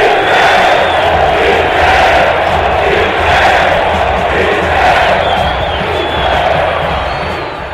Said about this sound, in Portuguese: Aí a fanática torcida do Inhoquim